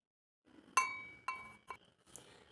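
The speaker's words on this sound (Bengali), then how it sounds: "তো একটা বাটি নিয়েছি আর একটা চামচ নিয়েছি" A spoon clinks against a bowl, three or four bright ringing taps with short decays, close and quiet in a silent room, with no talking.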